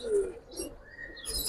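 Pigeons at a busy pigeon market, with soft low cooing and a few brief chirps, fairly faint against a murmuring background across a short stretch.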